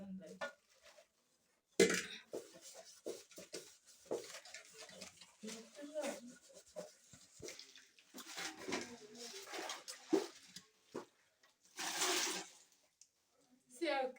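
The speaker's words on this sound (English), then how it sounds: "Washing my sufuria." A sufuria cooking pot scrubbed with an old scrubber in a Kenyan village, giving intermittent scraping and clattering strokes with splashes of water. A person speaks between the scrubbing bursts, and birds are faintly audible.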